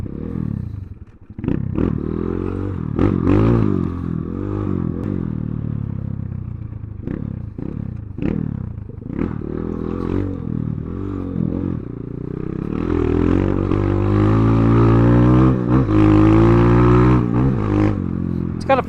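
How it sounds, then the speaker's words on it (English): Kayo air-cooled four-stroke dirt bike with a five-speed transmission, ridden nearby: the engine revs up and down in repeated surges with gear changes, then a sustained louder drone, with rattling clatter throughout. "It's an air-cooled, 4-stroke, reliable engine."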